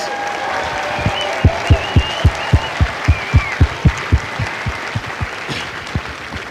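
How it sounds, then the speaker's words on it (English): Crowd applause for drill instructors at a Marine Corps recruit graduation at MCRD San Diego, steady clapping from a large outdoor audience with a rhythmic series of low thumps pulsing through it. "Would you join me in a final round of applause for the Marines who make Marines, the drill instructors?"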